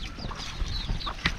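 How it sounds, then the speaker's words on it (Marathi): A country chicken clucks on a rural Konkan farm during rice planting, a few brief soft clucks close by over low outdoor background noise. "हे बघा गावठी कोंबडी"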